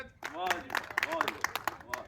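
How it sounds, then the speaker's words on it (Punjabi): Scattered hand claps from a small group at an outdoor tree-planting event for a girl, sharp irregular claps mixed with voices talking over them. "ਮੈਂ ਚਾਹੁੰਦਾ ਇਹ ਮੰਨਤ ਦੇ ਨਾਂ ਦੀ ਇੱਕ ਤਾੜੀ ਮਾਰ ਦਿਓ"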